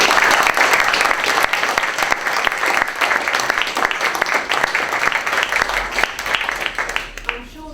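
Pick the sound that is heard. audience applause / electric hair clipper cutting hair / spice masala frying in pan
audience applause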